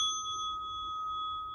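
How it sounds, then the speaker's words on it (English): A small bell rung once to close an evening relaxation session, its clear sustained tone ringing bright and slowly fading in a quiet room. "ring the bell"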